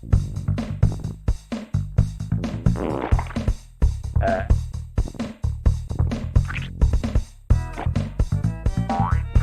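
A held burp sound effect from the Boogerman video game comes as a long run of rhythmic, croaking belch pulses, some bending upward in bouncy, boing-like sweeps, loud and continuous throughout.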